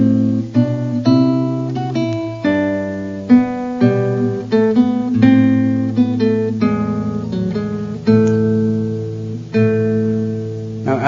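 A classical guitar plays a passage of Greensleeves, close and clear, with plucked notes and bass tones ringing over one another in a steady, flowing rhythm and no talking.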